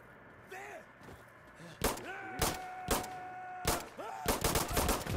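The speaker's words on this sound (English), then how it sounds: "Stop shooting me!" Gunfire in Insurgency Sandstorm: several loud, separate shots spaced out over the clip with ringing echoes between them, close by, and voices faintly in the background.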